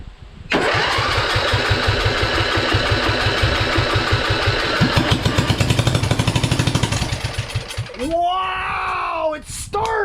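A Briggs & Stratton 20 HP engine on a Craftsman LT2000 lawn tractor with no muffler cranks and then fires up loud and close, pulsing rapidly and steadily for several seconds. It sputters near the end while a voice exclaims over it.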